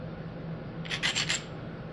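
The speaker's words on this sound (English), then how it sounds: "and now a little brush with the coarse abrader in the correct direction" A coarse abrader brushes across a flintknapped rootbeer chert triangle, making a few quiet, raspy rubbing strokes in quick succession near the middle. No one speaks.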